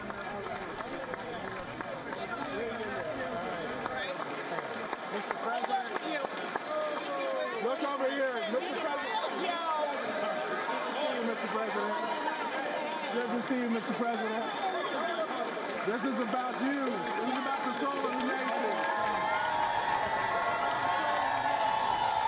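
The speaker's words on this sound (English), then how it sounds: "U.S. President Joe Biden being greeted by a raucous crowd there in the Capitol building" Raucous crowd in the Capitol building cheering and applauding as U.S. President Joe Biden arrives for the State of the Union address, a dense, steady roar of clapping and shouts with voices mixed throughout.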